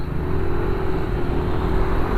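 A Yamaha NMAX Turbo motorcycle engine runs close by with a steady, even drone, held at a constant throttle with no clear revving, and no voices.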